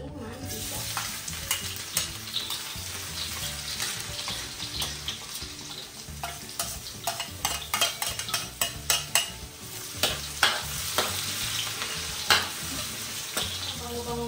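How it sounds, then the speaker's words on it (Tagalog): Onion, garlic and ginger sautéing in hot cooking oil before chicken liver adobo, a dense continuous sizzle with repeated spatula scrapes and knocks against the pan that grow more frequent toward the end, no talking. "magigisa tayo ng sibuyas, bawang, at isama na natin yung luya"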